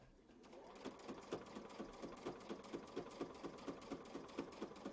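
Sewing machine stitching a quilt block, running in a steady, rapid rhythm of needle strokes, faint and close with no talking.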